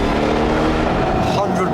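A supercharged Ford Shelby GT500 engine accelerates hard in second gear, a loud, rising roar heard from inside the car over a short burst.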